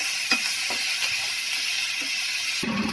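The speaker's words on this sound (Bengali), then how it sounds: "এবার এর মধ্যে আমাকে দিতে হবে পেঁয়াজ বাটাটা। একটু হালকা গোল্ডেন ফ্রাই করতে হবে।" Onion paste frying toward golden in a pan makes a loud, steady hissing sizzle, close up, with a few soft clicks and a slight change near the end.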